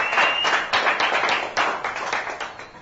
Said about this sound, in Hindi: तालिया ताली